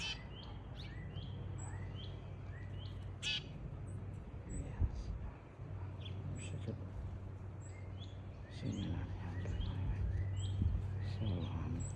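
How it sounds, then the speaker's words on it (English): Backyard birds, including a tufted titmouse, call in short scattered chirps through a steady outdoor background, moderately near, with a person talking at times. "You can hear the birds."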